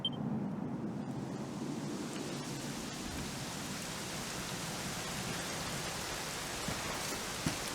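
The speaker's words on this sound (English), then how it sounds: "You know, it was raining like this the last time I ever saw her." Steady rain falls in a Dragon Quest XI game scene, a dense even hiss of drops that holds at a constant level throughout with no voices.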